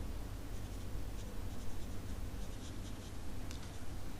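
Steady scratching of a pen or marker writing notes during an Indian polity lecture, continuous and fairly close with a low background hum, no talking.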